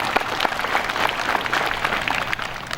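A crowd welcoming the deputy regent of Aceh Besar at a religious gathering breaks into sustained applause, many hands clapping in a dense, steady patter that stays even and loud throughout with no talking.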